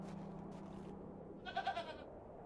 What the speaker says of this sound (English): I'm not fond of goats at the best of times, but this one seems particularly disagreeable.